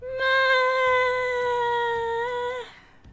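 A cat in the video game Inspector Waffles gives one long, loud, steady meow lasting nearly three seconds, alone with no talk.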